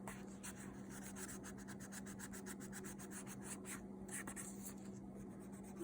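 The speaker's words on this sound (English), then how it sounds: "that you gotta do a little bit of scrubbing" Someone scrubs black leather Louboutin heels with short, rapid back-and-forth strokes, a soft, close, dry rubbing that repeats in a quick rhythm without any talk.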